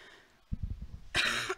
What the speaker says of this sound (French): pardon, la petite toux